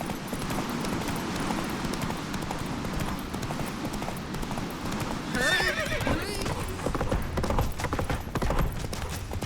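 A horse in the Witcher 3 video game gallops with rapid clip-clop hoofbeats and gives a loud whinny midway, with battle noises and the voice of a game character.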